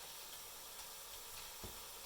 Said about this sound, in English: I've added a little bit more water just to kind of steam it through